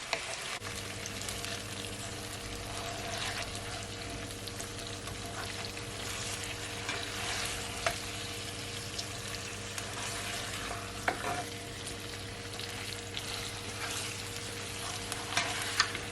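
Ackee and red herring sizzle and crackle in a frying pan while a utensil gently folds and scrapes through them, with a steady close frying hiss and occasional clinks, no voices.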